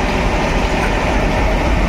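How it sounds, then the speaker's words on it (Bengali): A slow freight train loaded with stones rolls toward the Nasipur rail bridge, giving a close, steady, dense rumble with no voices. "পাথর ভর্তি মালগাড়ি আনলোডিং এই মুহূর্তে নসিপুর রেল ব্রিজের দিকে যাচ্ছে ধীরে ধীরে"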